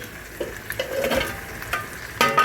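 Chicken pulao rice stirred in a pan, close scraping and clinking spoon strokes with a faint sizzle, a few distinct stirs ending in a louder burst of scraping.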